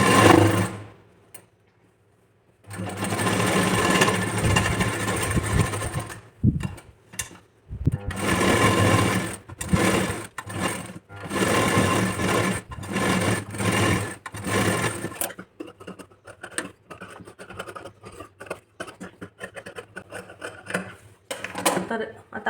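A sewing machine stitches the lining and neckline of a velvet princess-cut blouse in repeated short runs and pauses, with someone talking between bursts and the stitching fading to quieter handling near the end.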